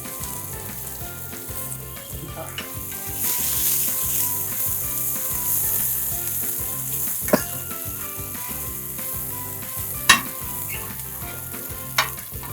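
Sliced onions with curry leaves frying in a pan for Bangda (mackerel) masala fry, a steady sizzle with stirring scrapes throughout and a few sharp utensil clinks near the end.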